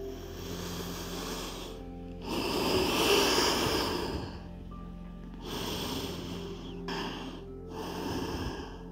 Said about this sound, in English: We're just going to enjoy a couple of rounds of deep breathing here.